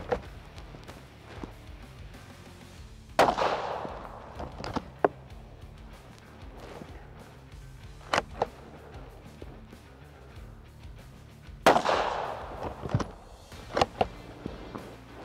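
A CZ 600 Trail rifle fires Hornady Match 73 grain ELD-M rounds outdoors. Two sharp, loud shots about eight seconds apart each ring out with a trailing echo, and softer handling clicks fall in between.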